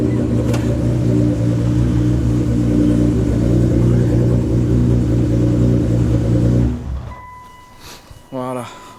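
A Toyota Supra engine roars at a steady high idle, loud and close, then cuts off abruptly, leaving quiet background noise and a brief voice.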